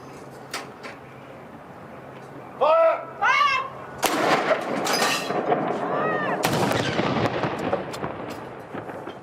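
Artillery guns fire a salute marking the death of Prince Philip: two heavy booms a few seconds apart, rolling out over open ground, with brief shouted voices beforehand.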